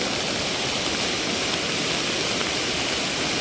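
A river in flood rushes past, high enough to spill over a bridge, giving a loud, constant roar of churning water that holds steady from start to finish.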